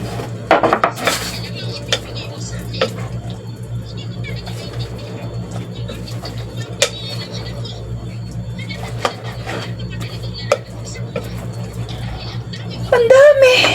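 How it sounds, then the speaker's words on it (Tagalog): Squash batter for shrimp tempura being stirred in a bowl, a spoon clinking and scraping against the bowl in irregular knocks, with a sharper clatter at the start and a voice speaking near the end. "Haluin na."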